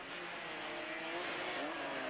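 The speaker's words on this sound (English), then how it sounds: "Using all the braking they can get from the engine." BMW Group N race cars engine braking on a track, a dense continuous engine roar with shifting tonal whine, steady and fairly loud throughout with no talk.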